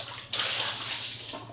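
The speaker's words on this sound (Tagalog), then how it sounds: "Kung dito nga tatagas yung tubig or doon pupunta kung saan yan." Water gushes steadily through a cut length of tubing on a farm, a continuous splashing rush that swells slightly after a moment and carries on without pause.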